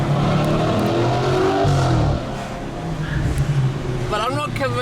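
A 2013 Audi R8 with its naturally aspirated 4.2-litre V8 runs loudly and steadily, its deep engine tone dropping and idling after about two seconds, with a voice briefly audible at the end.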